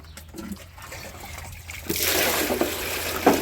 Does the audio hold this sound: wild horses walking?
no